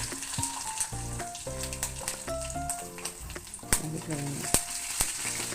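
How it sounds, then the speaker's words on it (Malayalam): Mustard seeds, dried red chillies, curry leaves and ginger crackling in hot oil for a semolina upma tempering, a close steady sizzle with sharp spluttering pops and scattered clinks, plus a brief tonal hum in the background. "കടുകിട്ട് കൊടുത്തിട്ടുണ്ട് അതിലേക്ക് വറ്റൽ വറ്റൽ മുളകും കരിവേപ്പിലും കൊടുക്കണം ഇഞ്ചിട്ട് കൊടുക്കുന്നുണ്ട്"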